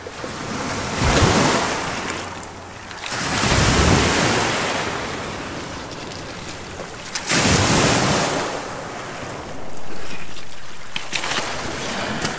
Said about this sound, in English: Rocks and waves.